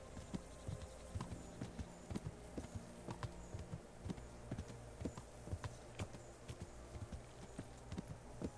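Horse hooves clip-clop at a walk or slow trot while riding in the medieval game Kingdom Come: Deliverance, a steady and evenly spaced rhythm of close, crisp hoof strikes with no voices.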